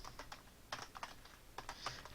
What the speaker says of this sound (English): tap the end key